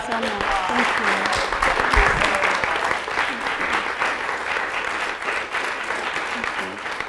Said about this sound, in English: let's give her one more warm round of applause